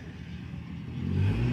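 A Fiat Uno Turbo i.e. engine at a Japanese car meet on a hill-climb course, a steady mid-range drone that swells louder in the second half as if revving up, with no talk over it.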